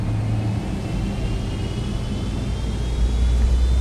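Boeing 777-200F jet engines in X-Plane 11 spool up into a steady, loud low rumble with a faint rising whine, swelling slightly toward the end.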